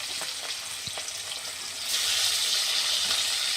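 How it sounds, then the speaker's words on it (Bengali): Hilsa fish rubbed with turmeric and salt frying in a pan, a steady hot sizzle that swells louder partway through, with occasional clinks and no one talking. "হলুদ লবণ মাখানো মাছটা কড়ের মধ্যে ছেড়ে দিলাম"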